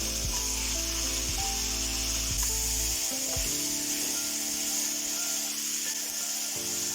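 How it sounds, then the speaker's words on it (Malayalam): Sliced tomato and mango sauté in a pan with already-fried onion, giving a steady close sizzle throughout with a few soft utensil knocks and scrapes and no talking. "ഇത് രണ്ടും നന്നായിട്ടൊന്ന് വഴറ്റിയെടുക്കാം"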